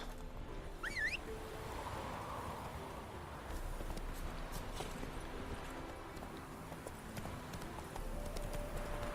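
Roach the horse's hooves clip-clop steadily through The Witcher 3, a continuous rhythmic beat under ambient game sound and a brief chirp early on.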